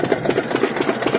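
A stationary engine at a farm well, used to irrigate cotton plants, idles steadily with a loud, even chugging pulse of regular beats and a mechanical rattle, heard close up with no talking.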